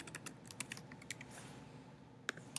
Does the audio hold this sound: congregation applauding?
no